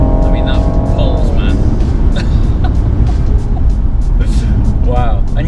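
Engine of a new Rolls-Royce accelerating hard, heard from inside as a loud, steady low rumble with rising tones early on, while people talk over it.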